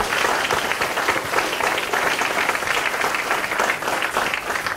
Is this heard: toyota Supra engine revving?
no